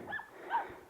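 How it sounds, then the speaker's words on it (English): A dog whimpers and yips briefly, two short whiny vocal bursts close by, with no talking. "excuse the dog barking in the background"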